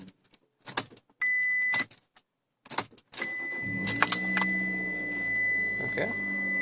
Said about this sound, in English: so we're going to turn the car off.